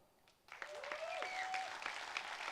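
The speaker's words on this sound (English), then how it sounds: "Give her an applaud." An audience at a talk in Amsterdam claps steadily after a quiet start, the applause moderately distant and sustained, with a faint whistle-like tone rising through the middle.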